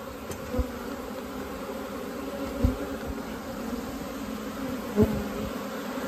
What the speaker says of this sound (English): So see all the bees right here at the entrance